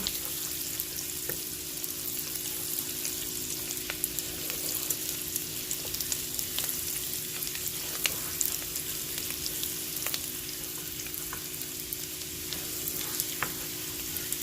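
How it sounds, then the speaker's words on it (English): Onions and celery sizzle steadily in a pan for the whole stretch, a constant dense crackle with faint scrapes of continuous stirring close by and no voices. "So I'm just kind of continuously stirring."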